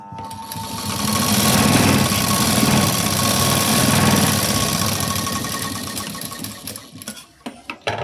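A sewing machine stitches a sleeve seam through fabric and lining in a steady, loud mechanical whir that runs for several seconds, then breaks into a few short stop-start bursts near the end.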